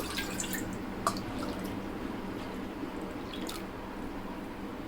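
Coconut water being poured into a cooking pot, a steady close trickle of liquid with light splashing and dripping throughout.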